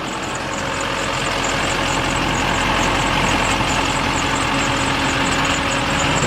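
A 2006 Hummer H1 Alpha Passenger Wagon idles at close range, its exhaust giving a steady, even rumble with a faint rhythmic ticking on top, continuous and unbroken, with no voices.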